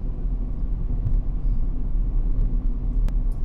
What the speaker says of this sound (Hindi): धीरे धीरे गाड़ी को मोड़ूंगा